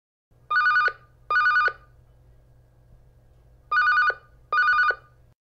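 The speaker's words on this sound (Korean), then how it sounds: "진섭 씨는 겁이 났지만 전화를 받았습니다" Telephone ringing in two bursts of double rings, each a bright electronic trill, separated by a pause over a low steady hum.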